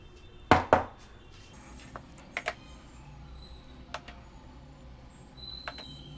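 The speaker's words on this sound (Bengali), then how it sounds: "গরম আছে বলে আমি একটুখানি আগে স্পুন দিয়ে মেখে নিচ্ছি।" A spoon mixing salted dough with hot lentils (dal) in a kitchen, heard as a few faint, scattered clinks and light scrapes against a bowl, sparse and close.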